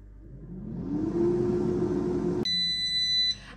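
An air fryer gives a bright electronic beep tone lasting under a second, following a steady fan-like whir that cuts off.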